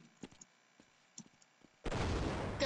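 Gunshot in the game Half-Life: faint scattered clicks and taps, then one loud blast that turns into a sustained roar of close, heavy firing.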